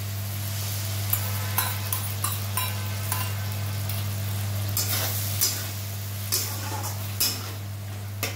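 Sauce poured into a pan of softened capsicum and onion, giving a steady soft sizzle with occasional light clicks and taps of a utensil over a low constant hum.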